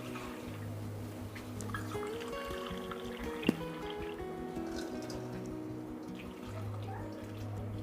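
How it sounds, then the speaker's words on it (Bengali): A cup of water pours into a cooking pot of raw papaya and spices, a soft, continuous trickle close by, with quiet background music playing underneath. "এখানে আমি এক কাপ পানি দিচ্ছি"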